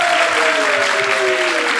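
Outdoor summer radio show audience applauding after a live song performance, steady dense clapping throughout with a faint tonal whistle or feedback line running beneath it.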